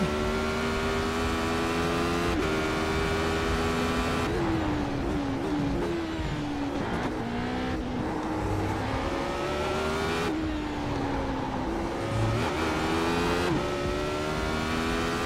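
A race car engine in the iRacing simulator revs hard and accelerates out of a corner, a loud steady whine that climbs and drops through gear changes over fifteen seconds, with no talking.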